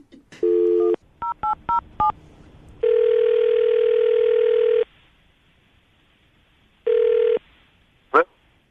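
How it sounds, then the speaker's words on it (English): A phone number is punched in on a touch-tone keypad during a call-in radio morning show: a quick run of crisp DTMF beeps, then long steady ringing tones with a pause between them, and no voices. "I'm going to dial the phone number right now."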